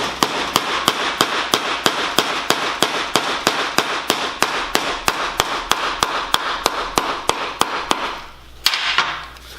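A hammer strikes sheet metal against a buck to flatten a tuck, landing loud, sharp, evenly spaced metallic blows about three per second, then stopping briefly before a final pair of hits.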